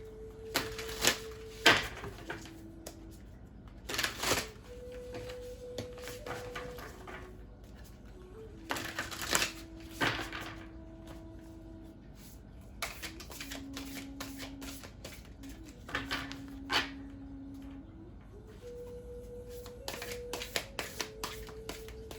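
Tarot cards shuffled by hand in repeated short riffling bursts, close and fairly crisp, with steady background music or hum running underneath.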